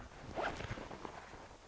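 Zipper on an REI Traverse 48 backpack being pulled, a short close rasping zip lasting about a second, followed by faint handling noise.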